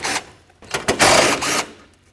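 Ratchet wrench loosening 12mm nuts on the radiator brackets of a Lexus GS300, heard as short bursts of rapid mechanical clicking separated by brief pauses, close and fairly loud.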